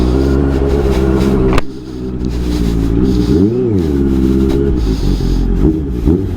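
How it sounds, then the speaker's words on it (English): Car engine and exhaust revving in snowy hill country around Kohima, a loud, continuous low rumble that drops briefly then climbs and falls again through a rising and falling rev, close by. "Oh, the exhaust."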